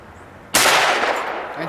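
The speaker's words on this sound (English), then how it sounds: "Now let's get back to shooting them." One sharp, loud rifle report at a ceramic tile target outdoors, a sudden crack followed by a lingering decaying rumble.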